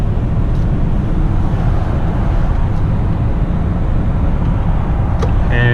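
Cabin of a 2013 Toyota Camry XLE V6 accelerating to merge onto a freeway behind a truck: a steady, loud engine and road rumble that continues without a break.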